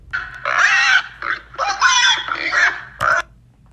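A pig squeals in loud, close, shrill bursts, several cries in quick succession followed by a short final shriek.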